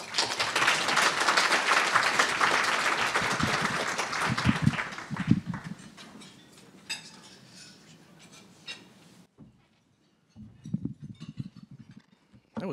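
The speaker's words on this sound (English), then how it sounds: "So please help me welcome to the stage with your applause, Mr. Pat Wilson." Loud audience applause at a keynote address in Atlanta, dense clapping filling the first several seconds, then fading into a quieter room with scattered noise and a brief voice-like burst.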